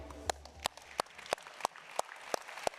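Slow, evenly spaced handclaps at a conference closing ceremony, about eight sharp claps in a steady rhythm, faint against a quiet room.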